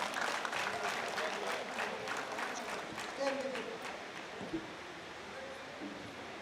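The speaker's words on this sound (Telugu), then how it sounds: "వారి వేదికపైకి మీ చప్పట్ల ద్వారా ఆహ్వానం పంపుతున్నాం" Audience applause at a community association's oath-taking ceremony as the new president is invited onto the stage. Steady, fairly loud clapping from a hall crowd, fading slightly toward the end.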